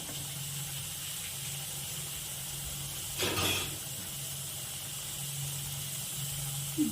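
Potatoes lightly frying in hot oil as ground spices are added, a faint, steady sizzling hiss with one brief louder burst of spitting steam partway through.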